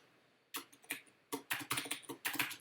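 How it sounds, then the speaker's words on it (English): Fingers tap quickly on a computer keyboard, close and crisp, a burst of a few keystrokes, a pause, then a faster run of clicks with no talking. "Lost that key on my keyboard."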